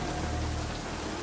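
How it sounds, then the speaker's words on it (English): Rain falling in the Generation Zero video game, a dense, even hiss of steady downpour filling the whole moment with no breaks. "That's how quick the rain comes on for me sometimes."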